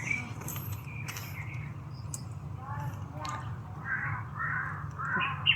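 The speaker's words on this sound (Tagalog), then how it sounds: "may mga uwak oh" Several crows caw at a distance outdoors, scattered calls over a steady low hum and insect-like background, with no speech over them.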